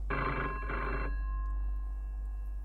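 A telephone in a video game rings with two loud electronic bell bursts, then cuts off to a quiet hum with no talk.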